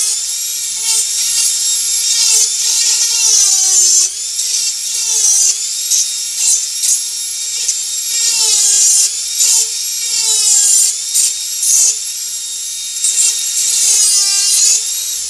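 A Dremel flex shaft rotary tool fitted with a burr grinds into wood while carving a tree, a loud, close, high-pitched whine that rises and dips in speed as it bites, with short pauses, alone and without talk.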